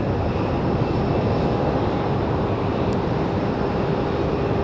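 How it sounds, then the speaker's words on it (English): Delta Boeing 737 departing Raleigh Durham for Atlanta, a steady, loud, broadband engine rumble holding evenly throughout with no voices. "Delta 737, another one off to Atlanta"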